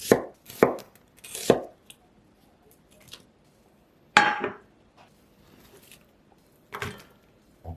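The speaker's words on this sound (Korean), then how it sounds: "양파 반 개는 채 써시고요." A knife slices half an onion into strips on a cutting board, giving a few sharp, close chops in short bursts with quiet gaps between them.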